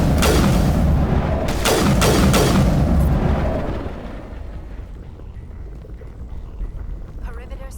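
Sniper rifle fire from the video game Mass Effect sounds as a series of heavy, booming shots over the first few seconds, then gives way to a quieter, low ambient rumble.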